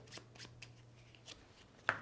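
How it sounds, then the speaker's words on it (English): A deck of cards for the board game Maquis is shuffled on a table, a few soft riffling bursts with a low steady hum beneath and a sharp tap near the end. "giving that a shuffle"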